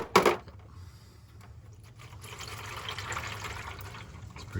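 Black transmission fluid from a Mazda drains into a bucket; a sharp metallic clunk opens, then a steady close trickle and splatter of liquid runs on without speech.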